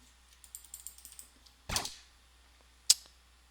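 Keystrokes on a keyboard hooked up to a Sega Dreamcast, a scattered run of light clicks followed by a louder burst and one sharp clack, close and quiet with no talking.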